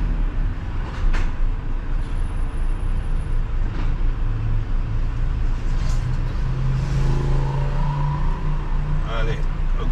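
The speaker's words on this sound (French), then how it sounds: "le camion, il fait comme il peut" A truck manoeuvres slowly through a narrow street in Marseille in the rain, giving a steady low engine rumble with a few brief hisses and clunks as it edges along, and voices nearby.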